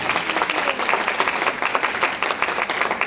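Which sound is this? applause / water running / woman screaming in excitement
applause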